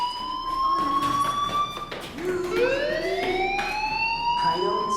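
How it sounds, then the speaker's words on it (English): In the video game Life Is Strange, a fire alarm wails in rising and falling electronic tones, sweeping repeatedly and sounding fairly close and steady throughout. "Hey, do you hear that fire alarm? That means you should be outside."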